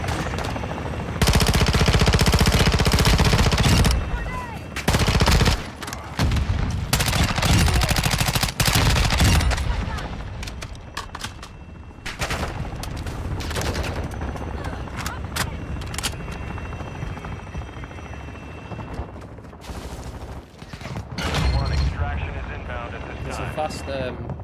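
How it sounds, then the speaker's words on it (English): Enemy gunfire in a military shooter game, loud dense bursts of automatic fire and sporadic shots with aircraft or helicopter noise underneath, easing later while people talk over the combat. "You know these guys are gonna start shooting us."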